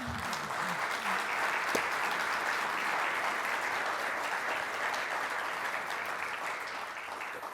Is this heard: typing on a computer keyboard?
no